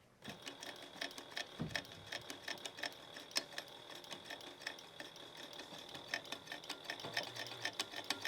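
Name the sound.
sewing machine stitching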